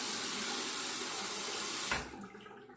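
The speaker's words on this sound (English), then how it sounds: "Let me drain this water." Water rushes steadily from a bathroom sink basin during a wet shave, then cuts off abruptly and tails away to near silence.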